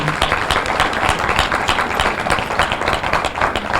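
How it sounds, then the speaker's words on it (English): An audience claps for school district employees at a luncheon, steady dense applause filling the room throughout without letup. "So let's give them a round of applause before they come out."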